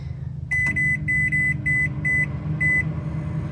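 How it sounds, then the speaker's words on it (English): Microwave oven in a camper van humming steadily while a series of about six sharp electronic beeps sounds in quick succession, close and clear. "Nice microwave."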